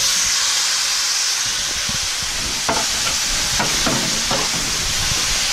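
Constant sizzling hiss as beef is added to a hot pan for a stir-fry, joined midway by a few stirring scrapes and clatters; no voices.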